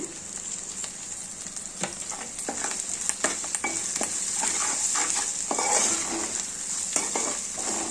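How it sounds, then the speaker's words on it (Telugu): Tempering spices crackle and sizzle in hot oil in a pan, with a continuous close frying hiss broken by repeated stirring scrapes and clicks throughout, no voices. "ఇవి పోపులండి దోరగా వేగితేనే టేస్ట్గా ఉంటాయి"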